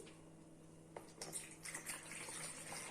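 Water pours into the reservoir of a steamer, a faint run of splashing and gushing that starts after a quiet moment and continues to the end.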